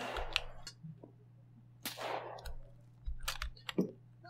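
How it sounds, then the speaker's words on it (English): Scattered gunfire in the military shooter Arma 3, a handful of isolated shots and cracks at irregular intervals, fairly faint and distant over low background noise. "Sounds like sporadic fire."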